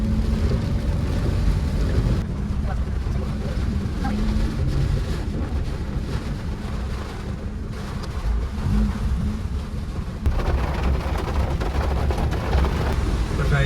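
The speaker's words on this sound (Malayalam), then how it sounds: "ഭയങ്കര മഴ." Heavy rain drums steadily and loudly, a dense roar mixed with wind buffeting, continuing without break over the whole stretch.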